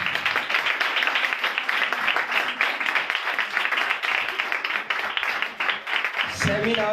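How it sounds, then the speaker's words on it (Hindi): Sustained, dense clapping from an audience at a church gathering, steady and fairly loud throughout, with a brief lower rumble near the end. "आपको खुशी नहीं हुई तो फिर तालियां बजाएं"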